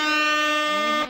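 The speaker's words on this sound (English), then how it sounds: "We'll hit you with the good old air horn." A single loud, steady air horn blast sounds as a broadcast sound effect, a bright, buzzy honk lasting about a second before cutting off abruptly.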